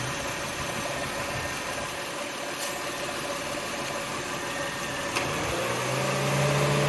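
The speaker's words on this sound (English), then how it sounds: "You hear the compressor kick on there pretty quick." Car engine idling steadily while the A/C system is recharged with R-134A refrigerant, with a low hum that shifts and strengthens near the end as the compressor kicks on; no talking.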